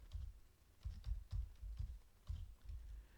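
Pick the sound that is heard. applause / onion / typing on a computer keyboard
typing on a computer keyboard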